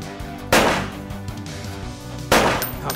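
Gunfire in the Transformers Dawn of War video game: two loud, sharp blasts about two seconds apart, each trailing off over a steady electronic background.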